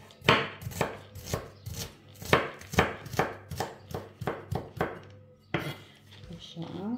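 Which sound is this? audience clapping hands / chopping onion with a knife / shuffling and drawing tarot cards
chopping onion with a knife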